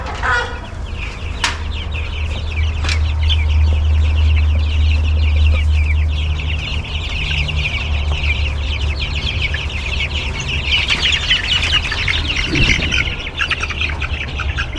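Meat chickens in a coop cluck and chatter steadily throughout, with occasional chirps and wing flaps and a low hum underneath.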